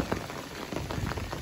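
Steady heavy rain patters on a tent on the Appalachian Trail, a dense, continuous drumming of drops close by with no voices.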